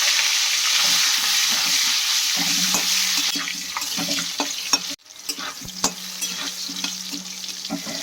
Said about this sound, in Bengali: তেলে আমি কটা আলু ভেজে নেব